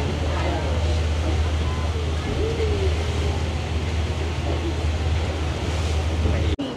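Loud, constant wind and water rush with a low engine rumble beneath, a boat crossing rough sea with strong waves toward Boracay Island; a brief dropout near the end.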